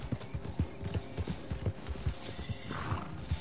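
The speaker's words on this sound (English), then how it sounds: "Love how I can hear all the horses" Steady clip-clop of several horses' hooves in the video game Red Dead Redemption II, a brisk overlapping rhythm close by, with a faint whinny-like call toward the end.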